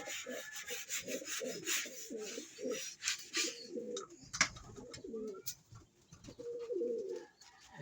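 Pigeons coo in soft repeated phrases close by, with scattered scraping and rubbing noises between the calls.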